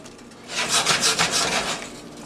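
Seafood alfredo sauce with Parmesan being stirred in a pan, a steady scraping, rubbing swish that rises and falls in repeated strokes, close and fairly loud, with no talking.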